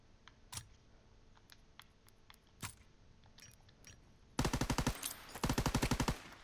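A rapid burst of popping cracks from a firework in Call of Duty WW2 arrives after a few scattered single shots, sharp and close, with no talking.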